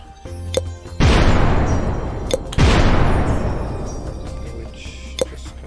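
Bombs explode in the physics game Freedom Physics: two loud, close blasts a second and a half apart, each with a long rumbling decay, amid a few faint clicks.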